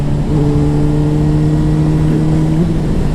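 A 2009 Honda CBR 600RR sport bike runs loud and close, its engine holding a steady droning tone on the move, with a slight pitch shift as the rider changes gear, and no talking.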